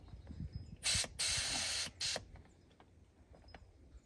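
Air hisses in three sharp bursts from the valve of an inflatable SUV mattress, close and fairly loud, separated by short pauses and followed by quiet rustling.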